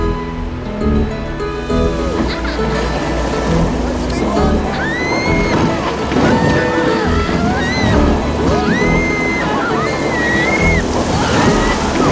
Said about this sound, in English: First things first, let's hit the rapids.